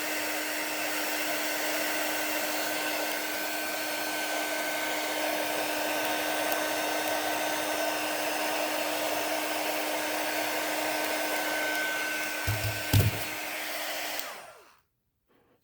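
A heat gun on its low setting melts a foam texture, making a steady loud blowing hum that runs unbroken for about fourteen seconds and then cuts off.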